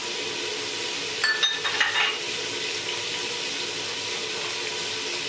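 Steady sizzling of food frying in a pan, with a few brief scraping and clinking stirs partway through.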